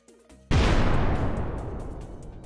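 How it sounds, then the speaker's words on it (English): An explosion in the mobile game Looney Tunes World of Mayhem hits after a brief quiet lead-in, a sudden loud boom that fades over about two seconds of rumbling debris noise. "Straight explosion to the face."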